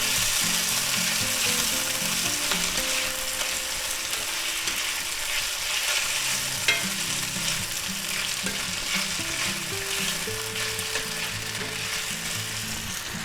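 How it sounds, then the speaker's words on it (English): Thin beef slices stir-frying in a hot pan for a spicy beef lo mein, a steady loud sizzle with scraping and clattering of the utensil against the pan throughout. "Now it's not going to take too long for this beef to cook because it's pretty thin. Stir them around good."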